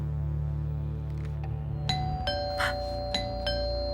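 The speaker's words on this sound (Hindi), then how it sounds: "ये तो घर की घंटी।" Electronic house doorbell chimes ring several times in quick succession at midnight over a steady low hum, fairly close and moderately loud.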